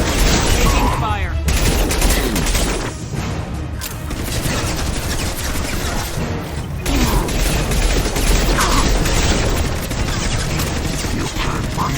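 Dense sci-fi gunfire rattles almost nonstop in a Mass Effect battle, loud and close, with rapid bursts, impacts and mechanical clatter layered over a heavy rumbling backdrop, plus a brief voice.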